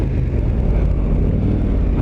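A dual sport motorcycle on Mitas E07+ adventure tires accelerates off-road, its engine a loud, continuous low rumble with wind buffeting, steady for the whole stretch and with no talking.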